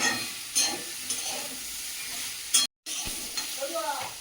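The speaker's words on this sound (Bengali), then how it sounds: "সবজিটা ভালো করে কষিয়ে নিয়েছি" Vegetables stir-fried in a pan, with a steady sizzle broken by scraping stirs and one abrupt drop to silence before the frying resumes, close and moderately loud.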